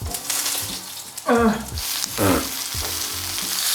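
Cheese-filled chicken nuggets with an eggshell crust fry in generous olive oil, giving a constant, close bubbling sizzle, with brief murmured voice sounds rising over it twice.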